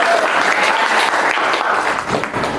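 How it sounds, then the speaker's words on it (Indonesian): A high school class applauding in a classroom, brief dense burst of many hands clapping together, close and loud, fading slightly at the end. "Tepuk tangan lagi."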